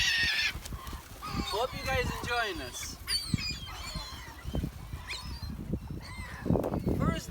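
Geese honking at a lake where people feed the birds with a cookie, several loud nasal honks near and far, mixed with a person talking and background noise.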